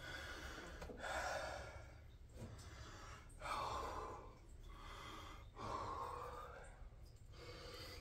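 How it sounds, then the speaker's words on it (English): Heavy, labored breathing from someone crawling through a tight hidden cave, close and loud, with gasping breaths and sighs repeating every couple of seconds and no talking. "sorry for the heavy breathing. It's really hard to breathe."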